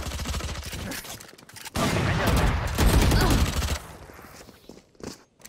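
Gunfire in Valorant comes in bursts of loud, rapid shots. A dense barrage fills the middle, then trails off into scattered quieter cracks.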